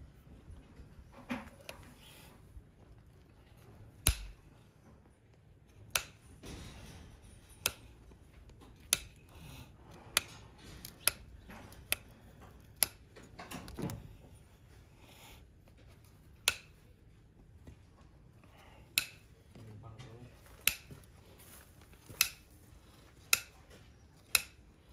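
A horse's hoof being trimmed with nippers or a hoof knife during hoof care, with sharp, crisp clipping snaps recurring at irregular intervals over a quiet background, growing more frequent toward the end.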